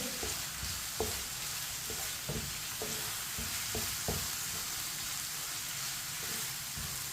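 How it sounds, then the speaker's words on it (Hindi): Long-cut green chillies being stirred in a frying pan over lowered heat, a steady sizzle of hot oil broken by repeated sharp scrapes and clicks of the spoon, all fairly close with no voices. "सब्ज मिर्च को भी मिक्स कर लेंगे।"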